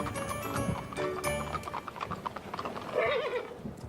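Horse hooves clip-clop at a steady pace, with a whinny rising near the end, under a faint background of movement.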